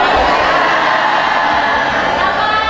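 At an inauguration ceremony for the Himpaudi regional board in Karawang, a large crowd cheers and applauds as a guest arrives, a loud, continuous roar of voices and clapping.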